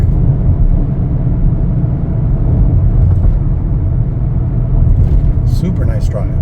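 A 2024 Chevrolet Equinox LT on the road, with a steady low engine and road rumble throughout and a voice speaking faintly near the end.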